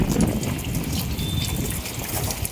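Water runs and splashes steadily while a container is rinsed clean after being emptied, a continuous close gushing and trickling wash with no talk.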